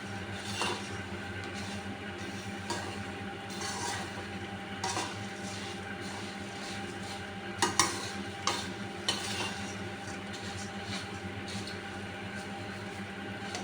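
Puffed rice (murmura) stirred continuously in a hot ghee-coated kadhai, giving a steady dry rustling scrape with occasional sharper metallic taps of the spoon against the pan, close and fairly even throughout.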